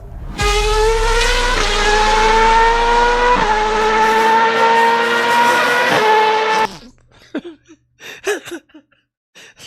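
A loud, high-pitched Formula 1 car engine screams steadily through several upshifts nearby, then cuts off, leaving a few faint clicks and sputters.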